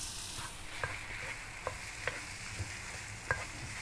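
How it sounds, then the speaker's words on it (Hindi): A thick carrot barfi mixture is stirred in a pan with cardamom powder, giving a faint continuous scraping sizzle broken by a few sharp spoon taps against the pan. "अच्छी तरह से मिक्स करते हैं"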